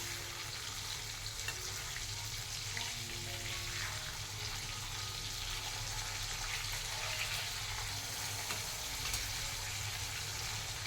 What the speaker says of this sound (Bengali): এক পাশ ভাজা হয়ে গেছে, এবার হালকা করে উল্টে দিই মাছগুলো।